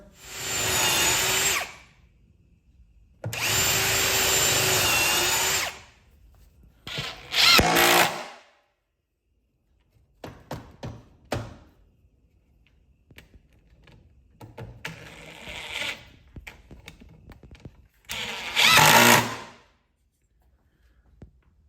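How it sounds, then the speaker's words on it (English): A power drill pre-drilling screw holes in wood whirs in several short bursts, revving up and stopping, with quieter handling noises and clatter between the runs. "Let's pre-drill, we'll screw those in"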